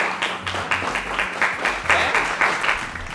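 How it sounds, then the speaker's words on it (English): Audience clapping during a television art auction, a short burst of applause with uneven, pulsing claps at moderate volume, with some voice mixed in. "So another round of applause for Allie."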